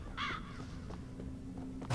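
A raven caws once in the video game Jotun, a single harsh call near the start, then quiet ambient game sound with a soft low hum.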